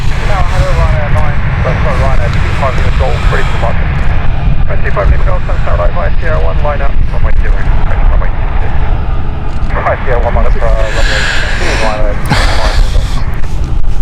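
An AirX jet arriving at Stansted Airport, a steady loud engine roar running throughout beneath ongoing talk from people nearby.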